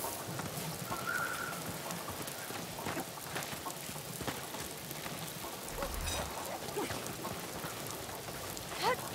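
Rain falls steadily in the video game Warhammer Vermintide 2, a soft, continuous hiss of drops with no talk.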